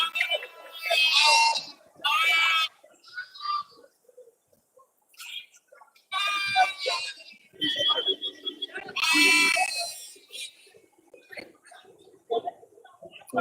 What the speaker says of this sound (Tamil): இதெல்லாம் செம்மறி ஆடுகள் வந்திருக்கு ஒன்று ஓல தரத்துக்குட்டிலாம் வந்திருக்கு